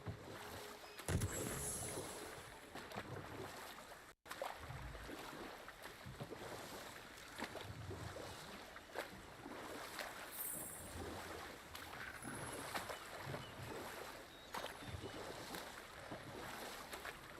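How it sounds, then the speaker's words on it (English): A waterfall rushes as a steady, faint, broadband roar that holds evenly throughout, sounding distant and continuous with no talking. "Waterfalls. We're close."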